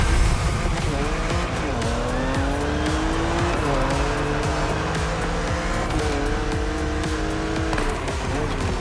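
A BMW Z4 drives the roads of Maui in The Crew Motorfest, its engine note holding loud and steady up close through rising and falling revs, with tire squeal breaking through under a constant mix.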